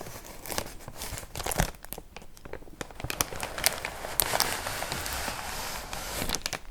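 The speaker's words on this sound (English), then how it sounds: "this first package is another thing that came in just a plastic bag envelope" A plastic mailer bag envelope is handled and torn open close up, giving a run of crinkling, crackling and tearing bursts in quick irregular succession, soft and intimate with no talk.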